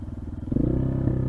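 A motorcycle engine, a Honda CRF300 Rally or Orion RXB250L, pulses at a low idle, then swells to a steady throbbing rumble as the bike rides off, close and fairly loud, with no talking.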